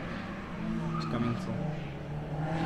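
A gymkhana car spins at a motor club test, its engine revving and tires skidding in a short, moderately distant squeal, with a voice talking over it.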